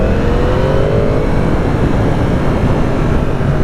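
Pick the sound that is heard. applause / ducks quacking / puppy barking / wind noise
wind noise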